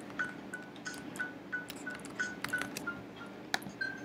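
Phone dialing tones in the video game Stick RPG 2, a run of short, quiet electronic beeps in an uneven rhythm, with several clicks scattered between them and no talking.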